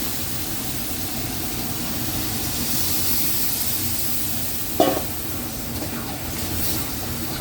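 Water is poured into a pan of koi fish curry cooked with potato, eggplant and cauliflower, giving a steady, moderate hiss with a brief clatter partway through.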